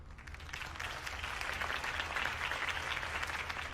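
A campaign rally crowd in Batman: The Telltale Series applauds steadily after Harvey Dent's speech, a dense, even wash of distant clapping that holds its level throughout with no one speaking.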